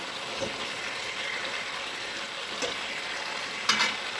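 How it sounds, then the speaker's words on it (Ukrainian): Chicken thighs sizzle and crackle steadily in a hot pan, a soft continuous hiss with a few brief pops, close and fairly quiet. "І продовжую смажити на іншій стороні до легкої такої золотистої скоринки."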